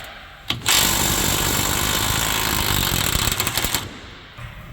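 An impact tool on an 18mm bolt at the rear of a front lower control arm on a 2016-2022 Chevy Malibu, Equinox or GMC Terrain, rattling loudly and steadily for about three seconds before stopping.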